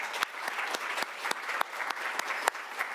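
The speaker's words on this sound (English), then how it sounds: "Can we just give them a quick round of applause" Applause from an audience at an academic award lecture, a steady wash of clapping with sharper individual claps standing out, moderately loud and continuing throughout.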